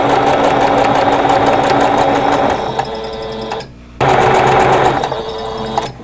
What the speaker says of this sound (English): I'm going to just stick them in the machine one right after the other, and they'll be connected by thread